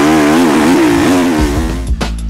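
A motocross motorcycle at the start gate revs with a rising and falling buzzy engine note, fading toward a low idle, close and loud, with a couple of sharp clicks near the end.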